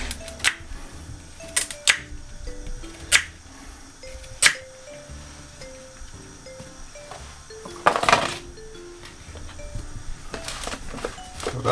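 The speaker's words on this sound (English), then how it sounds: "We're just going to cut those into chunks." A knife chops carrots into chunks on a board, a series of sharp, irregular thuds and clicks from close by with quiet gaps between the cuts.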